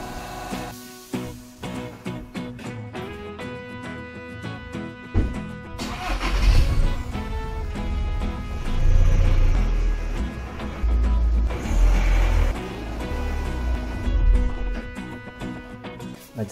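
A Seat Exeo 2.0 TDI car rolls in close by, its diesel engine rumbling low and swelling louder in the middle before easing off, with no talk over it.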